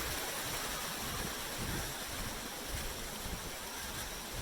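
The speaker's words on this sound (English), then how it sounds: "what we're seeing here is a spillway from the lake" Water pours down a hydro spillway from a lake, making a constant, moderately quiet rushing wash with no breaks and no voices.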